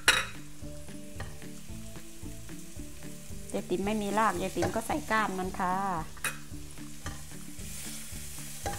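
Pounded garlic, pepper and coriander root stir-fried in a hot pan: steady crackling sizzle with scraping spatula strokes, while someone speaks Thai over the cooking.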